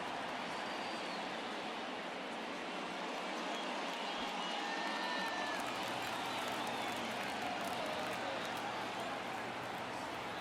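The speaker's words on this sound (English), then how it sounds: "you can feel this crowd waking up a bit here" Simulated stadium crowd noise in the baseball video game MLB The Show 23 during an Astros versus White Sox game: a dense, continuous roar of cheering fans, loud and even throughout, with no distinct voices standing out.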